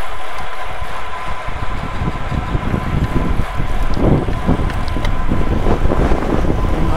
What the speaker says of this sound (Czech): Máme bočák.